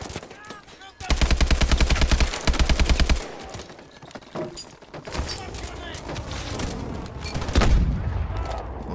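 Gunfire and a grenade explosion in the video game Call of Duty: Advanced Warfare, loud rapid automatic bursts followed by scattered shots, booms and a heavy blast near the end.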